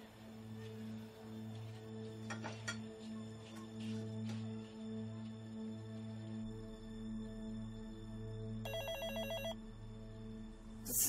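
A home telephone rings in repeated electronic bursts, steady and fairly close, with a brief higher chirping tone partway through and no voices.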